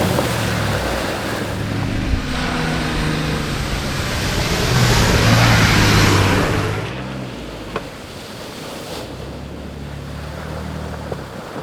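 A 4x4 vehicle drives through salt water at the beach, throwing up big splashes, heard as a long wash of spray with wind noise, easing off partway through.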